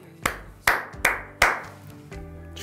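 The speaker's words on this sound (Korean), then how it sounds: "박수를 보내겠습니다" A few sharp, separate hand claps to congratulate an Oscar-winning actress, loud and close, spaced unevenly with short pauses between them.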